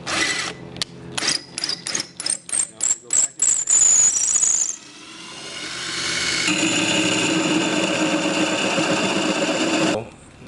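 Core drill boring through a 4-inch roof tile: a stuttering series of short grinding bursts as the bit starts, then a sustained loud, steady whining cut that stops abruptly near the end.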